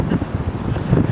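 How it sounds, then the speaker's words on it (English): Strong outdoor wind in Leeds buffeting a microphone, a brief low rumbling roar with gusty swells, loud and close, with no other clear sound. "Sorry about the wind, it's very windy today in Leeds"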